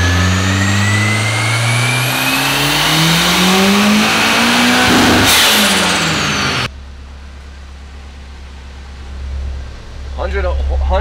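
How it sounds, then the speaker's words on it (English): A Nissan S15 with an SR20 engine, VVL switched off, revs hard through a dyno pull, its pitch climbing loud and close before cutting off abruptly into a quieter idle, with a brief voice near the end. "I want to do a pull with the VVL completely off so you guys can actually see the difference in power gains from the VVL itself."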